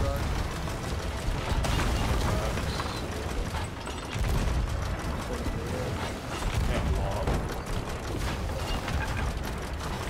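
Ship cannon fire aboard a galleon in the pirate video game Sea of Thieves, heavy booming blasts and mechanical clatter layered into a dense, loud battle din lasting about ten seconds.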